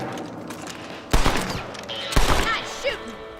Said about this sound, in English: Better at shooting rabbits than outlaws